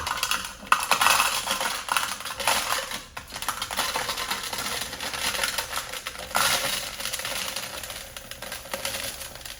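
Dollar Tree decorative rocks clatter and crunch as they are handled and poured, a dense, steady rattle of small stones close by with a few sharper bursts, no voices.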